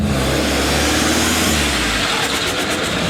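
Drift car engine revving hard at a Friday night drift event, a loud close roar that drops off abruptly into a rough, sputtering idle.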